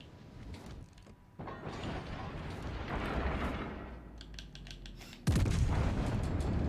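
Warship guns in World of Warships Legends fire at German battleships, a series of deep booms and rumbling blasts with one sharp loud report near the end over continuous background noise.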